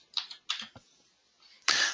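A few sharp clicks and clacks, like keys being struck on a keyboard, come in short bursts with gaps between and end in a louder, longer rattle.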